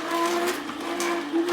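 Electric juicer grinding apple, beetroot, pepper and carrot, a steady close whirring motor drone with a high tonal whine, running continuously without pause.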